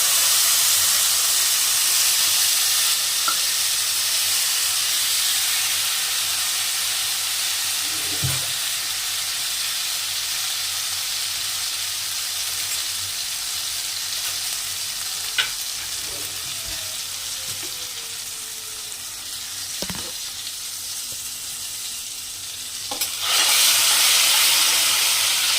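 Onion and cashew paste fries in hot oil for a mulakkada curry, giving a steady, loud sizzling hiss throughout with a few faint spoon scrapes and clinks scattered over it.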